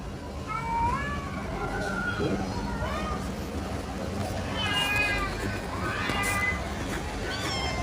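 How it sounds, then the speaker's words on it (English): Several cats meow repeatedly in rising and falling cries, moderately close, over a busy noisy background. "C for cat. C for cat."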